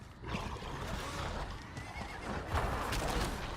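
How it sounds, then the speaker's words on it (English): A horse in the video game Diablo IV neighs and whinnies clearly for several seconds, with hoof clip-clops and game ambience underneath and no talking. "Come on, let me on the horse."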